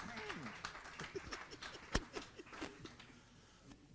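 Audience applause at a 10m air rifle standing mixed team shooting final: a steady patter of clapping with a few sharper cracks, mixed under an announcer's voice.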